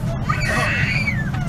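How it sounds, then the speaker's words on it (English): A baby screams somewhere in the background while traveling from LAX to Beijing, a drawn-out, wavering high-pitched wail sustained over a steady low cabin-like hum. "Screaming baby somewhere in the background."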